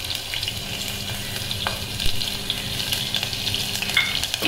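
Mustard seeds, cumin, finely chopped green chilli and turmeric sizzle in hot oil in a home kitchen, a continuous crackling fry with occasional stirring and spatters, and no voices.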